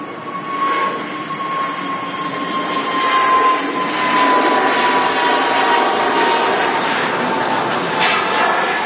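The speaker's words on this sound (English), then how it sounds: "Nice airy sound of the A320 Neo there with EasyJet." An EasyJet Airbus A320neo at Manchester Airport, its engines giving a loud, airy roar with a steady whine that drifts slightly lower in pitch, swelling a little toward the middle and holding close throughout.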